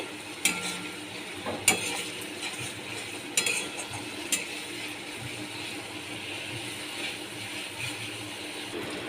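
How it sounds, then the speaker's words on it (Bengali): Rohu fish curry with cauliflower sautés in a pan with a steady low sizzle, while a few sharp spatula scrapes and knocks come through early on. "ভালো করে কষিয়ে নিচ্ছি"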